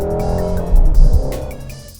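A 2016 Shelby GT350 muscle car revs loudly up close, a harsh rising engine snarl with a heavy low-end surge midway before tapering off.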